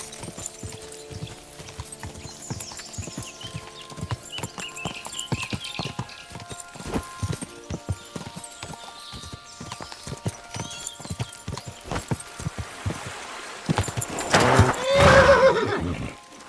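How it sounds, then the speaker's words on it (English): Steady clip-clopping horse hooves plod along throughout in the video game Kingdom Come: Deliverance II, joined near the end by a loud horse whinny. "What a beautiful horse."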